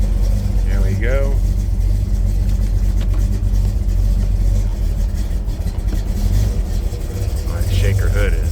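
A 1980 Pontiac Trans Am custom roadster with a shaker hood drives along, its engine a steady loud low rumble throughout with mild surges, plus brief faint voices or background chatter near the start and end.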